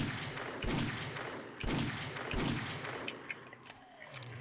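Gunfire aimed at a feral zombie in the 7 Days to Die video game: three heavy, booming shots about a second apart, each trailing into a rumble, then quieter scattered noises.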